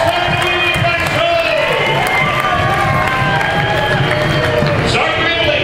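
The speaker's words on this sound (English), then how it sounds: "Are you ready, Saints fans? Yeah! Let's cheer it on!" Saints fans at a basketball event raise a loud, steady crowd cheer with shouting, close and continuous, over music and chatter throughout.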